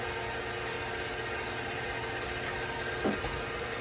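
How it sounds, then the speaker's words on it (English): KitchenAid stand mixer running with a juicer attachment, a steady close motor hum and whir with a faint brief knock near the end. "we're going to use our KitchenAid mixer to squeeze them with"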